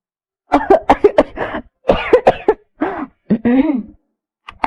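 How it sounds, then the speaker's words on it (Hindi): Several rough coughs and throat-clearing sounds from a woman choking on soup come in quick bursts, close and fairly loud, with short pauses between them. "अचानक उसके गले में सूप अटक गया और उसे खांसी आ गई।"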